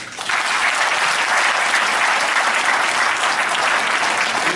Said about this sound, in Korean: 다시 한번 힘을 내도록 큰 박수 한번 부탁드립니다.